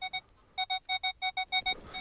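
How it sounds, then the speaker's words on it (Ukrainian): A metal detector sweeping ground at a dig site gives a repeated double-signal tone, a steady pulsing series of short, clear beeps in quick rhythm, close and alone with no talk. "десь тут вже подвійний сигнал"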